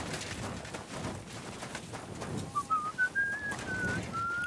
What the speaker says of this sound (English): Are you whistling here?